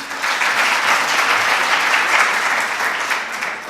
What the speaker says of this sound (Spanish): Por favor, aplaudir.